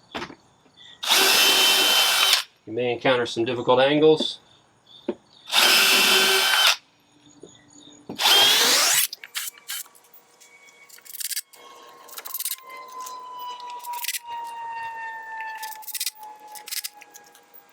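Power drill bursts driving screws into replacement deck boards during a DIY deck repair, three loud separate whirring runs, with a brief spoken remark between them and quieter clicks and rattles afterward.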